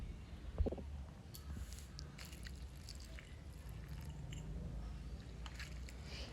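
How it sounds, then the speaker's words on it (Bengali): Cut cauliflower pieces washed with water in a mixing bowl, giving soft squishing and sloshing with small splashes and clinks, moderately close, no talking. "এবার ফুলকপিগুলো জল দিয়ে ভালো করে ধুয়ে নেবো"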